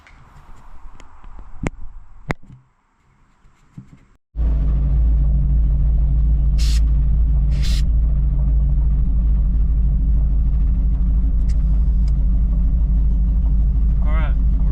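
A 1960 Chevy Bel Air fitted with a new carburetor cranks and fires into a loud, deep, steady engine rumble close by. Talk and brief handling noises come before the start.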